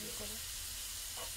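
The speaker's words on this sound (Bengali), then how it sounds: "পেঁয়াজ ভাজা হয়ে গেছে" Onions fry in a pan with a steady, close hiss and sizzle, a faint voice murmuring beneath.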